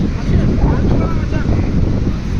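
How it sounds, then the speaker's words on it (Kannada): Steady wind rushes and buffets across the open air, a constant broadband roar with a faint wash of surf beneath it. "ಫೀಲ್ ಮಾತ್ರ ಸಣ್ಣ ಗಾಳಿ ಬೀಸ್ತಾ ಐತೆ"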